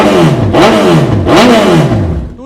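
A 2017 superbike fitted with a replica exhaust and crash guards is revved hard twice in quick succession, each throttle blip rising sharply and falling back, loud and close with no talking.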